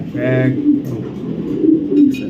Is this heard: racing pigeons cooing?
yes